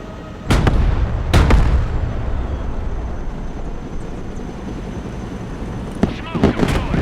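Tank gunfire in the Broken Arrow video game, two heavy booming shots early on and more sharp blasts near the end over a rumbling engine, with voices speaking throughout.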